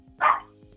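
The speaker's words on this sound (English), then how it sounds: "my dog's barking" A single short bark from a dog indoors, fairly close and moderately loud, sits over a faint steady background hum.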